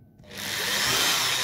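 A power drill bores into a dried gourd being made into a lamp, a brief buzzing whir that starts after a short pause and holds steady and close.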